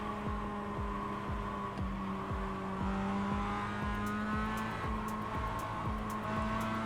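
A race car in iRacing laps Lime Rock Park with a steady, buzzing engine note that rises and drops repeatedly through upshifts, continuous and fairly loud with no talk over it.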